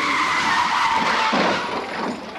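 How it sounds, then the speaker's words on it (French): Car tires skidding just before two cars crash into each other, a loud, close, sustained screech that drops in pitch and fades toward the end. "C'est celui de deux bagnoles qui se rentrent dedans."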